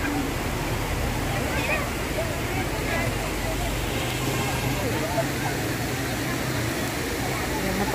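A waterfall in the Cameron Highlands rushes as a steady, broad roar of falling water that stays constant throughout, close and fairly loud, with voices faintly present beneath it.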